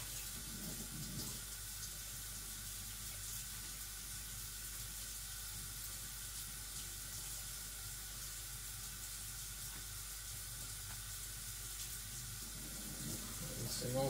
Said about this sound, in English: Rinsing off it.